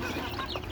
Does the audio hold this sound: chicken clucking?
yes